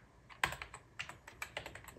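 Fingers type on a computer keyboard while a setup command is entered for a Windows install on a Mac Pro, a quick irregular run of close, crisp key clicks.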